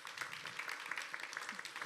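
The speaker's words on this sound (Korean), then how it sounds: "박수로 맞아주시길 부탁드립니다" An audience claps to welcome the panelists at a Korean panel discussion on space hazard response and space situational awareness, a faint, dense patter of many hands that stays steady throughout the short clip.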